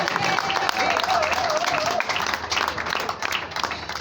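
Guests applaud the bride at a civil wedding ceremony in Ngaliema with a burst of sustained crowd clapping and a rising whistle or ululation near the start, while a voice speaks over it.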